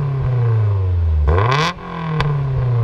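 A 2006 Mercedes C230 engine idles with a steady hum, then is blipped once in a quick rev that rises and falls back, followed by a brief sharp click.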